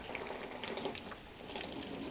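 Water sprayed from a hose onto house windows and cladding, a faint steady hissing splash with light spattering, heard alone at low level.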